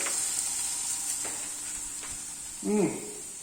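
A steak sizzling in a hot pan without oil, a steady close hiss with a few faint clicks, and a brief voice heard near the end.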